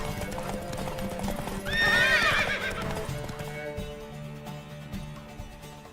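Horse hooves clip-clop steadily in The Witcher 3 video game, with a loud whinnying neigh bursting out near the middle before the hoofbeats carry on over background game music.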